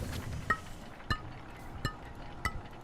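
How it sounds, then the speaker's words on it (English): Glass roof pieces are placed in the park-building game Parkitect, each one giving a bright, crisp clink; four evenly spaced chimes ring out against a quiet background. "Glass makes a cool sound."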